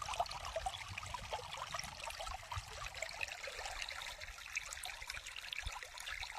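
Water flows steadily on a farm, a continuous trickling, dribbling stream with a broad hiss, moderately faint and close, steady throughout with no talk.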